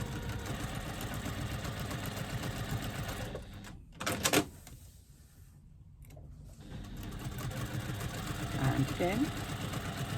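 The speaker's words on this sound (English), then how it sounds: "I'm going to stitch 1/4 inch away from that folded seam that we just created" A sewing machine stitches a quarter inch from a folded seam on a pop-it pouch, humming and whirring steadily at low volume, pausing briefly midway, with a few short spoken words.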